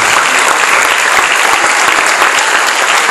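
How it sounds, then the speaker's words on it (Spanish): Loud, dense applause fills a Spanish-speaking church youth revival service, the whole congregation clapping continuously and close with no pauses, barely any voices audible. "Yo quiero que usted le dé un aplauso a mi hermano."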